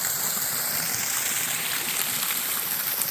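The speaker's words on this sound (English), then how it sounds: "There's the spillway" Steady hiss and rush of water pouring over a spillway toward the Clarion River, constant and fairly close, with no voices.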